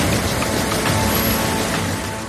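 Heavy monsoon downpour in Delhi, a dense steady hiss of rain pouring onto surfaces, loud and continuous throughout with no voices.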